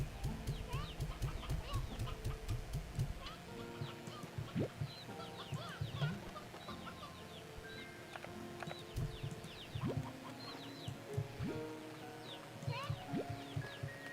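Painted chicks in Slime Rancher 2 cluck and chirp in a busy, overlapping flock, with quick repeated peeps and game sounds throughout.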